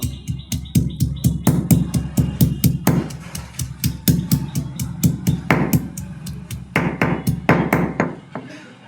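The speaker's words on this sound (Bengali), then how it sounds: "শিলে আমি মশলাগুলোকে ঢেলে নিয়েছি, এবারে এগুলোকে বেটে নেবো একটু" Garlic, ginger, tomato and green chili being ground on a flat grinding stone give off a steady run of close, rhythmic knocks and scrapes, repeated strokes at an even pace for several seconds.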